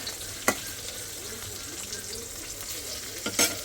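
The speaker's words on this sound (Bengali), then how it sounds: "এই জন্য তেলে ভাজে নিলাম শুকনো মরিচ" Dried chillies fry in hot oil with a steady soft sizzle, broken by a couple of sharp spatters or stirring clinks near the start and end, close and fairly quiet.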